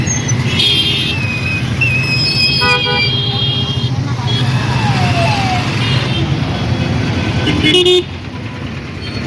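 Busy street traffic in Proddatur with car horns tooting in several short blasts over a steady roar of engines, while people talk nearby throughout.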